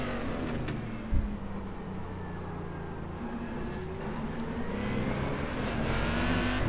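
Corvette race car engine in the iRacing sim at Homestead Roval, a steady loud drone that climbs gradually in pitch as the car accelerates, with no talking.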